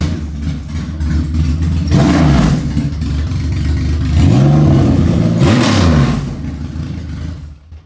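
A motorcycle engine runs steadily close by, climbing through several sharp revs that rise and fall in pitch, one around the two-second mark and two more later, then settling back toward idle before the sound cuts off.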